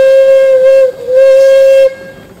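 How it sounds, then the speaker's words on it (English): A 50 horsepower Case steam traction engine whistle gives two loud, close blasts, a steady high tone with a short break between them, at a threshing show. "50 horsepower case steam engine."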